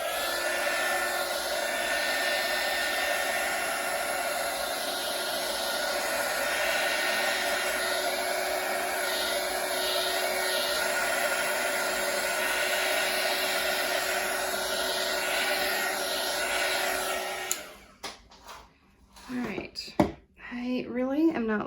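A heat tool blows a loud, steady stream of hot air over an acrylic pour painting, a reverse flower dip in orange and gold, then cuts off near the end among a few clatters.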